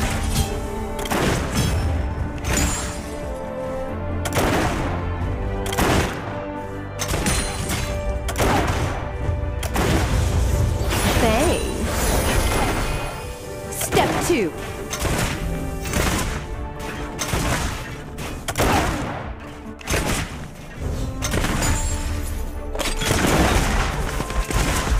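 Miss Fortune's guns firing in League of Legends: loud, rapid bursts of gunfire and booming impacts repeat throughout, with crashes and thuds from the game's combat and no talk.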